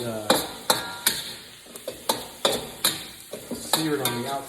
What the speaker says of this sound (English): stir fry this till we get it nice and